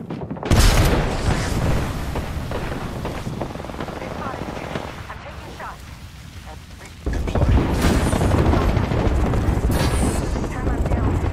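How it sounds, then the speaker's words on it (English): Grenade detonation in an Apex Legends match, a loud, sudden boom followed by heavy rumbling and sustained crackling gunfire and blasts, with a second surge of explosive noise later on; voices are heard under the din. "Look out. Grenade."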